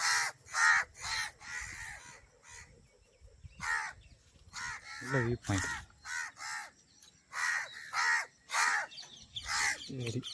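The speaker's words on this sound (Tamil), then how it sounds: "சரி காக்கா வேற" A crow caws over and over at a dam, in irregular bursts, loud and close, with short pauses between the harsh calls.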